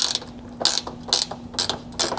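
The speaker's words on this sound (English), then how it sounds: "get in here with a 10 millimeter ratchet wrench and free up this" A 10 millimeter ratchet wrench loosening a front bolt during a Bronco roof rack install, its pawl clicking in five quick, loud bursts at a steady rhythm, close up with no talking.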